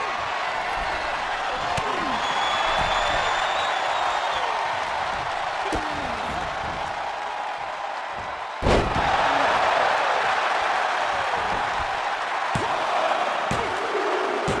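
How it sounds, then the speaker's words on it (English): A dense, steady crowd roar fills an arena in the wrestling video game WWE 2K24, with occasional sharp thuds and slams cutting through, loud and continuous throughout. "the crowd is on the edge of their seats"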